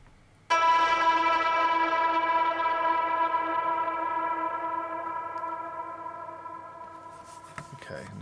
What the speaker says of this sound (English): you'll kind of hear it kind of do this cinematic bend